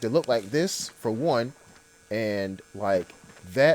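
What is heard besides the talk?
No distinct noise like a dog, phone or traffic.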